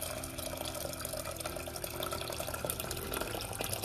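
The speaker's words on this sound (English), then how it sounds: "I'll add water into this." Water pours steadily into a cooking vessel holding dal for restaurant-style dal tadka, a continuous close splashing and trickling that runs evenly throughout with no talking.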